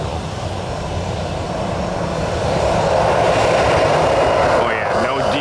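Loud jet engine blast from an airliner spooling up at Tampa International Airport, a dense sustained roar heard up close that builds in intensity, with talk faintly under it.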